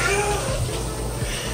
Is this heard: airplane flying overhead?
no